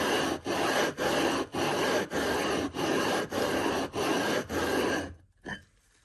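A sharpening stone scrubbed back and forth on an iron lapping plate, eight loud, regular gritty rasping strokes close up, ending with a brief light knock.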